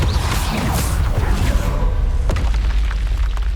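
Confringo spell explosion in the video game Hogwarts Legacy, a loud booming blast with crackling burst texture that holds for about two seconds and then thins out.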